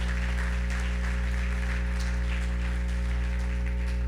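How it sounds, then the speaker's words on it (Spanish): A church congregation claps together during a Sunday service, producing steady, dense applause that holds even throughout over a low constant hum. "Dale un aplauso al Señor"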